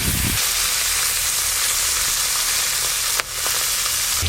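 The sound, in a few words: food frying and sizzling in a pan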